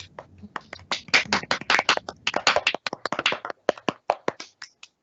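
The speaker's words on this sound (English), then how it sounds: "I just want to get another round of applause from our team for Stephani and Dawn" A small group claps steadily for a few seconds, brisk and close, then the applause thins to scattered claps.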